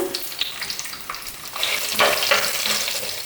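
Garlic fries in hot oil in a pan for Onam sadya mango pickle, with curry leaves and dried red chillies. A moderate sizzle swells as the pieces are stirred, and no one speaks.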